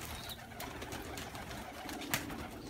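Pigeons cooing, soft and fairly distant, low murmuring calls under a hiss of background noise with a short sharp click near the end.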